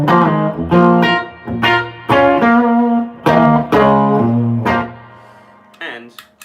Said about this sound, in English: I'm using the panoramic stereo amp today, and I've just set it pretty clean with a nice healthy dollop of reverb